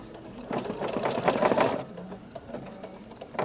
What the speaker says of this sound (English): we are going to go ahead and stitch step number 5